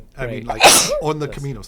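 A single sharp sneeze bursts out in the middle of a relaxed conversation between hikers, loud and close, with talking continuing right before and after it.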